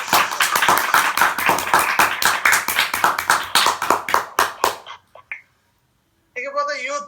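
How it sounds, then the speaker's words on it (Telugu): A family at an online worship gathering applauds with a burst of dense, lively clapping that fades into silence, followed by a short stretch of talk. "వారందరికీ కూడా ఒకసారి గట్టిగా మా అందరం చప్పట్లతో అభినందించాలి"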